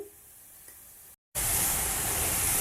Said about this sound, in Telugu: నెయ్యి వేసేసుకొని ఆ నెయ్యిలో ఈ తురుముకున్న క్యారెట్ని వేసుకుందామండి.